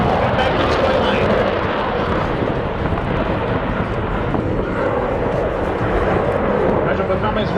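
A Eurofighter Typhoon fighter jet performs its display at the Leeuwarden airshow in Holland, producing a loud, unbroken engine roar across the whole stretch. An announcer's commentary runs over the noise.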